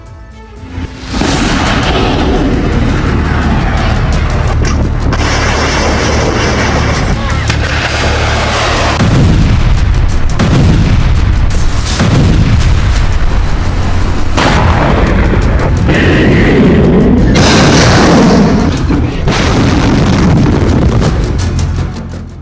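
Explosions from ATACMS missile strikes on Russian military bases in Crimea, a loud continuous roar broken by repeated heavy booms and blasts.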